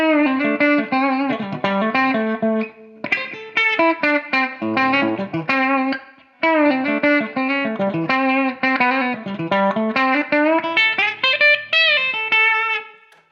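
Semi-hollow ES335-type electric guitar on its bridge pickup, played as a run of chords and picked notes with effects and slight distortion, loud and continuous, with one brief pause partway through.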